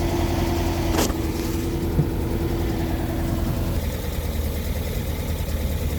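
A Volkswagen Vanagon engine, not yet rebuilt, runs steadily with a loud, constant low drone and rumble, close by, with a brief clunk early on and no talking.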